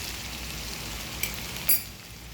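A spoon stirs bottle gourd curry (sorakaya pulusu) simmering in a pot, giving a soft low bubbling with a couple of brief scrapes and clinks against the vessel.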